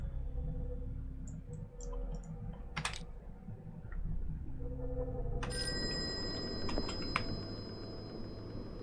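A telephone in the video game Call of Cthulhu rings with a bright electronic bell tone, preceded by quiet clicking and a low hum, fairly faint and without voices.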